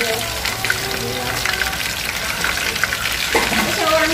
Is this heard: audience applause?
no